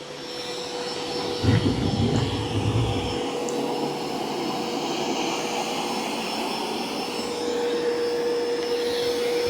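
A Mova E40 robot vacuum runs close by with a steady whooshing roar that stays broad and even, with a brief knock early on and no talking over it.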